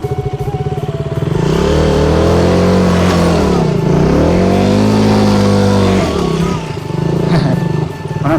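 A motorcycle engine labours along a slippery, muddy road in the hills of Nepal, a loud, continuous drone whose pitch climbs and dips as the rider revs through the mud.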